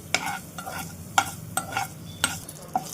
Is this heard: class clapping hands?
no